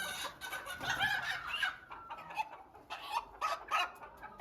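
A rooster in a crowded ornamental poultry coop clucks and makes short throaty calls nearby, in several uneven bursts with brief pauses between them.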